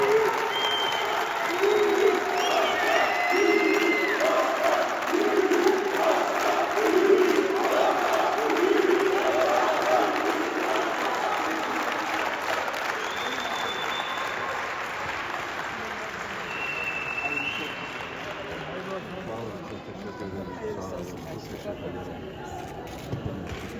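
Audience applause fills a municipal ceremony in Beykoz where the mayor receives his certificate of election, a steady dense clapping from a crowd that holds for about twenty seconds before tapering off slightly.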